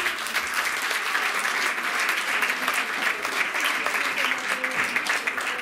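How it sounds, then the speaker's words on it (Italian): Audience applause for a drummer at a music school recital, a steady dense wash of many hands clapping that holds evenly throughout, with faint voices mixed in. "Un applauso al batterista."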